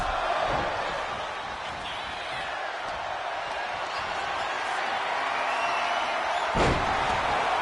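A wrestler hits a heavy front slam in front of a roaring arena crowd, one sharp, booming thud landing near the end over the constant crowd noise, with a fainter impact earlier.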